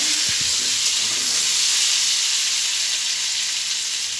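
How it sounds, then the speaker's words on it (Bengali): Potatoes fry in oil in a kadai, browning for an egg and potato curry, giving a loud, steady sizzle with a hissing, steamy edge and a few faint scraping stirs early on. "আমি লাল লাল করে আলুগুলো ভেজে নেবো।"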